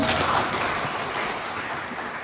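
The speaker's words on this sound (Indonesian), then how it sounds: "Oke, boleh kasih aplaus dulu." Steady audience applause at a talk show during a Vesak festival, a soft continuous patter of many hands heard at moderate distance, fading slightly over a couple of seconds.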